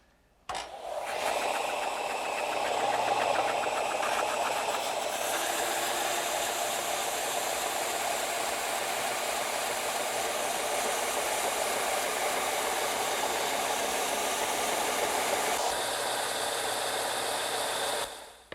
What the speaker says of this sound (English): I'm going to use my vertical belt sander